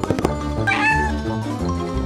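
A cat stuck in a tree gives a loud, drawn-out meow that rises and bends in pitch, heard close and alone.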